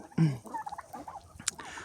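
A turkey gobbles loudly once near the start, followed by scattered clucks and chatter from chickens kept with the turkeys, with a sharp squawk later on.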